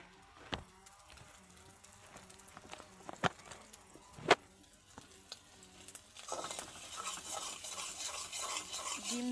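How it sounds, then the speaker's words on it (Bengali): Noodles and egg are stirred in a pan with sporadic scraping and clinking strokes, then a louder sizzling rush takes over for the last few seconds. "ডিম দেওয়ার পর কিন্তু অনেকক্ষণ নাড়াচাড়া করতে হইব।"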